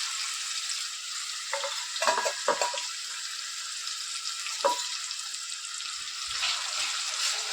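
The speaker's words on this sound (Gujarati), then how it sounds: "ફ્રેન્ડ્સ આપણા સોનિયા સરસ ફ્રાય થાય છે." Prawns fry in hot oil for a prawn masala, giving a loud, steady sizzling hiss with a few soft pops and stirring knocks scattered through it.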